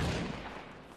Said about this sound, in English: They're shooting at the crack.